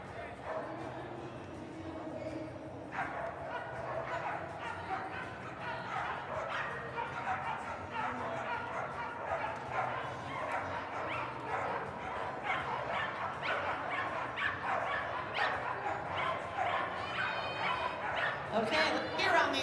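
Dogs at a flyball tournament during the Westminster Kennel Club Dog Show give repeated barks, yips and whimpers, close and continuous, over a crowd's murmur and an announcer talking.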